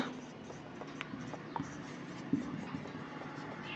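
Chalk or marker scratching on a board during a physics lesson on current electricity, with faint, intermittent strokes and taps and a few sharper knocks in a quiet room.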